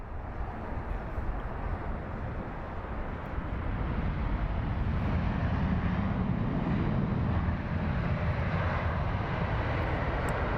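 A Boeing 787 Dreamliner airliner at London Heathrow Airport makes a steady, moderately distant jet engine roar that swells slightly partway through and holds as a broad continuous rumble.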